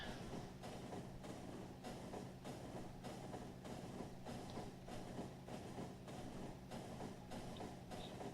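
A train in the factory-building game Factorio rolls in to a station, giving a steady, faint rumble with evenly spaced rhythmic clacks repeating about every half second, and no one speaks.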